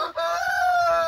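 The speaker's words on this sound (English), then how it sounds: "This is a chicken with his kids." Chicken calling in an African village, a single drawn-out, sharp cluck or crow-like cry heard close and loud for about a second, alone.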